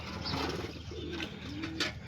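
Pigeons coo softly in a low, rolling murmur, with a few sharper bird sounds cutting in near the end.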